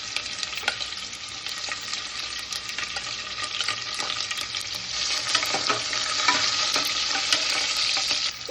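Curry leaves and sliced onion sauté in oil with a dense, loud crackling sizzle that runs continuously and grows slightly stronger, broken by scraping stirs.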